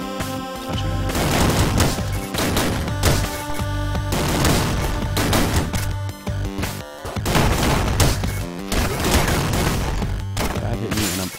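Dense, loud barrages of game gunfire and explosive booms from the gunboots in the arcade shooter Downwell, continuous rapid shots layered with music-like tones, no voices.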